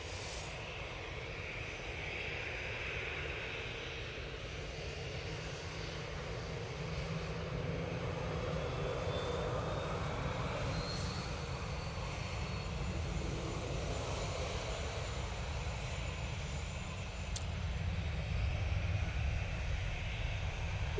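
An EasyJet jet airliner bound for Copenhagen begins its takeoff roll at Manchester Airport, a steady, broad engine roar heard from a distance that swells gradually over about twenty seconds, with no talking.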